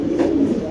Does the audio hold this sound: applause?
no